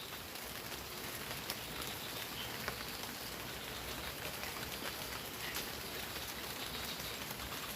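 Steady outdoor rainfall, a dense even hiss of drops on surfaces holding constant throughout, with no voices.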